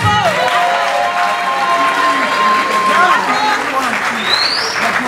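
A concert hall crowd applauds performing artists, loud continuous clapping mixed with cheers and shouts, while a voice talks over the din.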